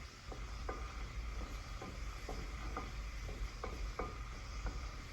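Ingredients stirred in a frying pan with about two tablespoons of oil and a pinch of salt, a steady soft sizzle broken by faint scraping stir strokes, close and quiet, with no talking.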